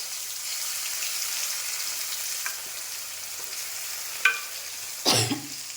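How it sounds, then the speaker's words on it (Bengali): Ginger garlic paste frying in a pan, with a soft continuous sizzle, a couple of light clinks and a louder scrape of stirring near the end. "এই দেখো আদা রসুনের পেস্টটা দিয়ে দিলাম দিয়ে একটু নেড়ে নিলাম"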